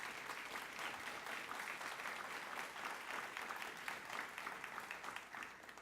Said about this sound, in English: So everybody give Kerwin Wimberly a big round of applause.